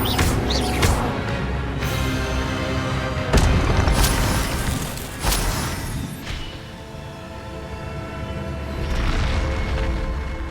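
The Incendio fire spell from Hogwarts Legacy goes off in heavy booming bursts, with several loud explosive hits over a dense, continuous game soundscape and no speech.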